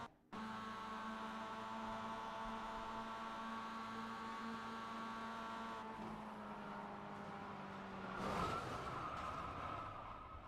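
Mazda race car lapping Dover Motor Speedway in iRacing, heard onboard as a steady, loud, tonal engine drone that shifts pitch twice, with a brief scrubbing surge near the end, alone without talk.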